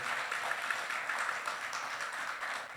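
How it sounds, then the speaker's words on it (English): Crowd applause at a Filipino-American community gathering in Los Angeles, a dense, steady wash of clapping from many hands with no break and no talk over it. "How about a big round of applause for this incredible organization?"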